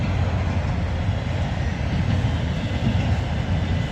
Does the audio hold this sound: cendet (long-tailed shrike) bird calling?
no